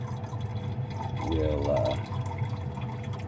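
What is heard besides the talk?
electrolyte liquid being poured off silver crystals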